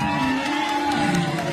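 A concert audience cheering and whooping continuously in a dense, loud crowd roar, with scattered applause blended in throughout the short moment.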